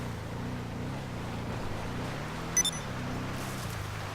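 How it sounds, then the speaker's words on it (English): A Vapid Contender 4x4 in GTA 5 ploughs through river water, its low engine drone steady under a constant wash and slosh of water, with a couple of brief light clicks partway through. "I'm driving through a river."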